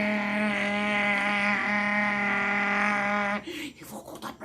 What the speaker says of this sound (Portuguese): ligou a moto e foi